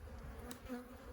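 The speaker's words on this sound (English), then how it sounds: "this is the little swarm" A small swarm of agitated honeybees from a ranch hive buzzes in a dense, steady drone close by, the sound holding at an even level with a faint rising whine partway through.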